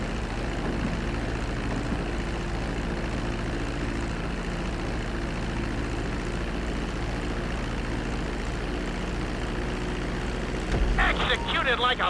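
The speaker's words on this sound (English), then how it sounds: "Be sure to deploy the landing gear before you reach the runway." Propeller airplane landing on a runway in the video game GTA 5, a steady loud engine drone throughout with a brief rattling burst near the end, and a voice speaking over it.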